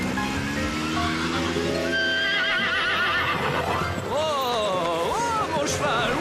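A horse neighs loudly and repeatedly in a cartoon scene, with rising and falling whinnies over clattering hooves and a busy background.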